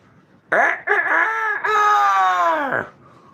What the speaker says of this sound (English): I can hear them roosters starting to crow out the road.